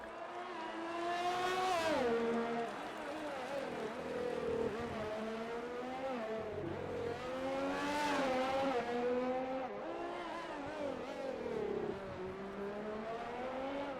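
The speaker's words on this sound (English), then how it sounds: "These cars will achieve speeds of over 200 miles per hour." Race cars tear along the Singapore Grand Prix street circuit, engines screaming as they rev up and shift down through the gears, several loud passes sweeping close by, with no voices over them.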